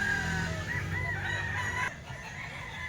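A White Kelso sweater gamecock rooster crows a drawn-out, wavering call that cuts off abruptly near the end, moderately close over quiet background with no talking.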